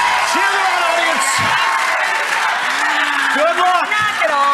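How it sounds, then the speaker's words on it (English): A game show studio audience cheers for contestants, sustained loud whooping and crowd noise with scattered shouts, while people talk over the din. "Cheer them on, audience."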